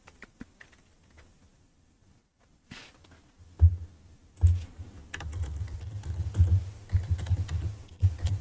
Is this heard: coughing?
no